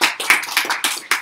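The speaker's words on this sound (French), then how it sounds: "Applaudissez le Seigneur Jésus" A church congregation claps in rhythm during worship, a steady run of sharp, fairly loud hand claps in groups with brief gaps.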